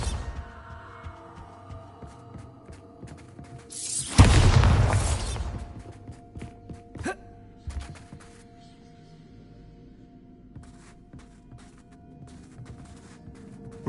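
A Bombarda blasting spell explosion in the Hogwarts Legacy video game, one loud booming burst with a sharp onset that rumbles and decays over a couple of seconds against quiet game ambience.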